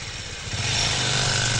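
A motorbike engine runs close by, a steady rough drone that swells slightly louder partway through and holds, with no talk over it.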